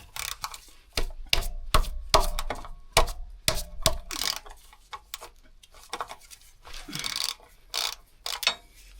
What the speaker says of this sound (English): So we're gonna break the plug loose.